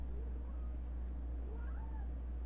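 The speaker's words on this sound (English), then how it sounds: "hear my cat freaking out in the background" A cat yowls in the background, faint, distant rising and falling meows under a steady low electrical hum, with no voices.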